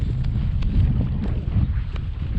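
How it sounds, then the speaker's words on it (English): Steady West Texas wind buffets the microphone during a kayak bass fishing trip, a constant low roaring rumble with slight gusting and no talk. "There's that West Texas wind, boys."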